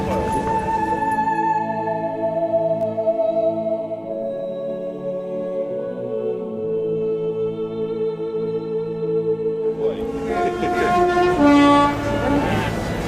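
A heritage steam train on the North Norfolk Railway sounds a long, sustained horn tone for several seconds, clear and fairly near, followed by a burst of mixed railway noise and hubbub.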